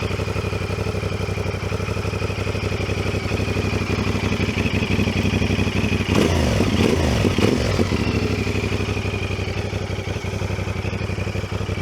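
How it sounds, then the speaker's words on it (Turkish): A CFMoto 450SR motorcycle engine runs steadily at idle through its exhaust, with a brief blip of revs around the middle, close and continuous with no talk. "ama egzozun sesi çok güzel."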